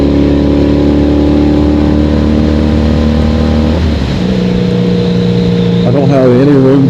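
A 1983 Honda Magna V45 750 motorcycle engine pulls in 5th gear while riding, a loud steady droning hum close by that dips and shifts in pitch midway before climbing again, with wind rush.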